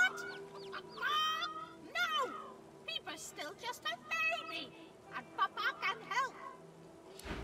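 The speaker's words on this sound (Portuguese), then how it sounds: "Essas galinhas estão se aventurando cada coisa ultimamente" Chickens cluck repeatedly in the video game Divinity Original Sin 2, with choppy clucks and squawks at close range alongside someone talking over them.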